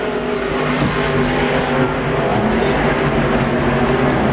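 IMCA Sport Mod race cars roar down the back straightaway at Arizona Speedway, a loud dense blend of revving engines from several cars in close pursuit, continuous and near.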